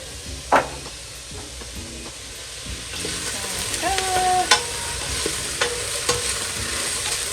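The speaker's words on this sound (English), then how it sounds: "we're going to add in the cinnamon. Here's the cinnamon. And stir that in." Cinnamon stirred into a frying pot of soup base, a steady background sizzle with intermittent scraping and clinking of a utensil against the pot, a sharp knock early on, close and no talking.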